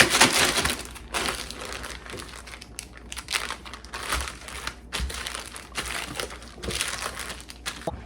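A plastic zip bag of gluten-free breadstick dough crinkled and scraped down toward a corner, close continuous crackling and rustling in uneven surges and short pauses.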